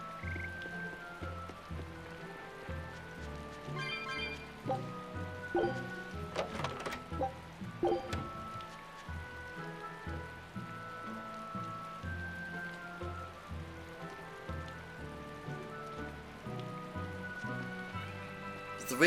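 Steady rainfall in the fantasy role-playing game Tales of Berseria at a port town, a soft continuous patter beneath gentle background music, with occasional sharper drops and croak-like accents.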